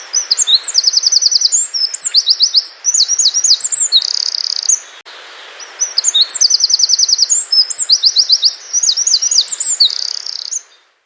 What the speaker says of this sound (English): There you have it, that's the wren.